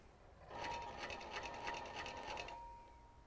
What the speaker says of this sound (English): Now that we've verified proper operation of the machine, we're going to turn it off.